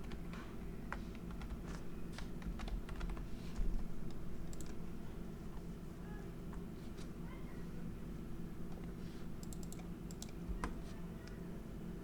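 Computer keyboard typing during mobile app design work: irregular, scattered key clicks, some in quick runs, close and moderately quiet over a steady low hum, with no talking.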